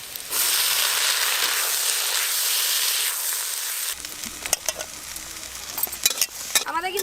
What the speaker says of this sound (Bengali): সব সবজি একটু ভাজা ভাজা হয়ে গেছে,